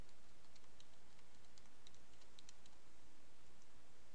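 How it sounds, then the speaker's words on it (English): Light, scattered clicks of a computer keyboard as someone types an IP address. The soft, irregular keystrokes sit under a steady background hiss. "I'm just typing it in."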